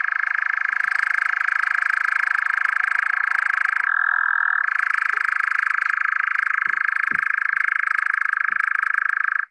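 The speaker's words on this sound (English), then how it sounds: "that is the sound of a churring nightjar" A churring nightjar on a Sussex heathland gives a steady, loud, unbroken mechanical trill that runs continuously with only a brief shift in pitch, a few faint low knocks beneath.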